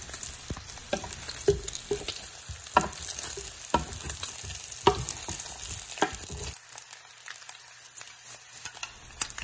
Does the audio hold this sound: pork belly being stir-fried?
yes